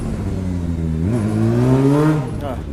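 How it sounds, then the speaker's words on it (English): Motorcycles rev past outside, a low engine drone that climbs in pitch around the middle and then fades, heard from a moderate distance under a steady background. "Motorcycles. Also love those things too."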